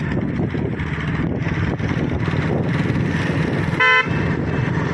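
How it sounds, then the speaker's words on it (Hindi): A single short car horn honk sounds over the steady rumble of road traffic and engine noise. "हॉर्न बजाइए टर्निंग पर, हॉर्न बजाइए"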